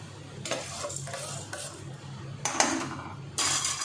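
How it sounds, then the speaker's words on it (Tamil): Vermicelli being stirred into boiling milk in a pot for payasam, with a few scraping, clinking strokes of a utensil against the pan over a low bubbling simmer, the last strokes louder and nearer. "பால் நல்லா கொதிக்கிறது தெரியுதா? சேமியா போட்டுக்கலாம்."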